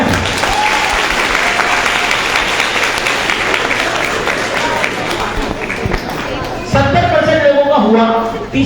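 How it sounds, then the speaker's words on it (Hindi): An audience in a leadership training hall breaks into steady, loud applause that runs for several seconds, with voices chattering at the end as the clapping fades. "हाँ ताली बजा सकते हैं।"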